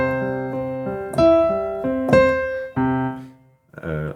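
Piano melody played with syncopation, a few sustained notes and chords struck off the beat with uneven spacing, clear and close, followed briefly by a voice at the end.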